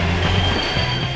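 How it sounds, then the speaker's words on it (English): A train rolls by in the video game Rock of the Dead, giving a loud, continuous rumble with squealing wheels and a metallic clatter that stays steady throughout. "Sweet! A train!"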